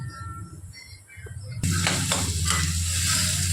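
Squash cooking down in a pan is stirred, giving a soft sizzle and scraping that grows louder and denser partway through, steady and close with no voices.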